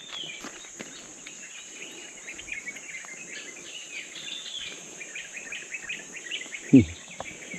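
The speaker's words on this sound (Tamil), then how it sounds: "குயிலோட சத்தம் வண்டுகளோட முனுகல் சத்தம்" Faint forest ambience with scattered bird calls, likely a koel, over a steady insect and beetle hum near a forest temple and well, with one sharp nearby knock toward the end.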